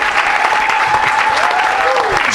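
A church congregation claps and cheers in a dense, steady wash of applause at an evangelistic gathering, with a voice calling out over the crowd.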